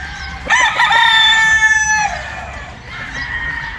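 Brown Gray gamefowl rooster on a farm gives a single loud, close crow of about a second and a half, followed by a fainter, shorter crow from another bird.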